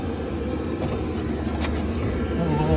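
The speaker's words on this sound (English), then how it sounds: "The diesel heater's working." Chinese diesel heater running beneath a bus, a steady low engine-like hum and rumble with some faint tonal whine, continuous throughout.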